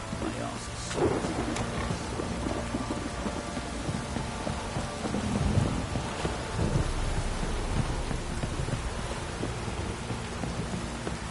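Heavy downpour in The Witcher 3, a dense steady roar of rain with low rumbling thunder swelling through the middle, loud and continuous, with faint voices mixed in.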